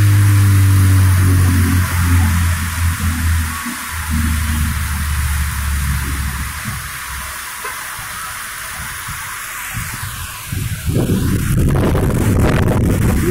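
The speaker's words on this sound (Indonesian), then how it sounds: "Angin kencang beserta hujan." Strong wind buffets the microphone in Banda Aceh, Indonesia, with deep roaring rumbles over a constant hiss of heavy rain, growing rougher and louder toward the end.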